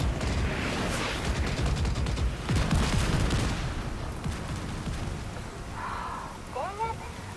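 Mortar and gunfire support fire in The Division 2, with dense rumbling blasts and crackling volleys rolling through the first half before fading, then a voice speaking near the end.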